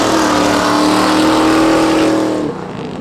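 Spectator drag race cars launch at Oxford Plains Speedway, a loud, close engine roar holding a steady rising tone for over two seconds before dropping off sharply as the cars pull away.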